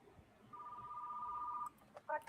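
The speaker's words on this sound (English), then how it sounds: "I have a phone call." A telephone rings in the 1990s video rental store game Retro Rewind Sim, a steady electronic trill held for over a second, followed by a few short clicks and blips.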